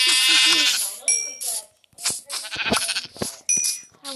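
Sheep in the video game Minecraft bleat close and loud in a string of short, wavering calls separated by brief pauses.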